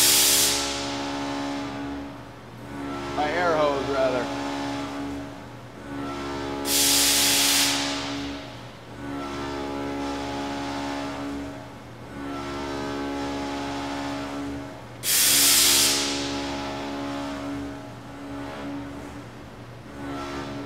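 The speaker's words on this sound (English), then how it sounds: "Looks like I could have done a better job aiming my coolant hose." On a Campro CNV850 CNC mill cutting 1018 steel, a coolant hose sprays onto the work, with loud hissing bursts rising over the steady spindle whine, two strong spray blasts standing out amid the constant machine hum.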